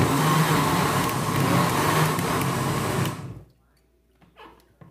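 A blender whirs loudly and steadily for about three seconds blending corn porridge, then cuts off, leaving near silence with faint handling noises.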